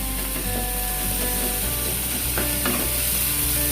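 Onions frying in a pan for paneer malai kofta, giving a steady, close sizzle with occasional stirring scrapes throughout.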